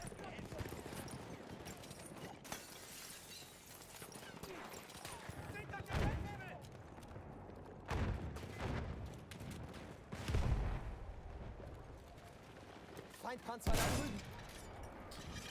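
Gunfire and ordnance in a PC multiplayer shooter game during a 12v12 match, scattered loud bursts and booms at irregular intervals under a faint background din, mixed with a speaking voice.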